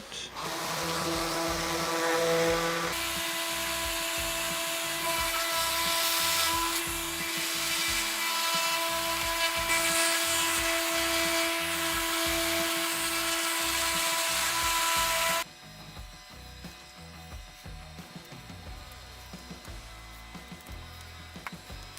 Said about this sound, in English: I usually use the sander at the back, and then sometimes with the knife as well, just to help pop them out.